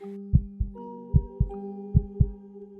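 Synthetic heartbeat effect pounding in paired lub-dub thumps, three pairs in steady rhythm over a low sustained drone, close and alone.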